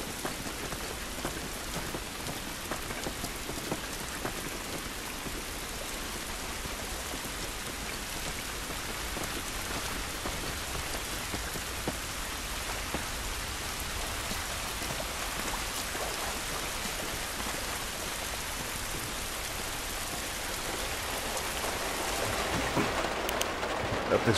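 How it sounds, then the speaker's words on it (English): Steady heavy rain falls in the video game The Last of Us Remastered, a dense continuous hiss of drops on surfaces that holds evenly loud throughout and swells slightly at the end, with no talk. "This rain ain't gonna do us any good."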